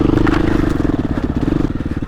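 A 400 RSR dirt bike engine throbs loudly while riding over rocks, its pulsing note mixed with clattering and scraping as it bounces along.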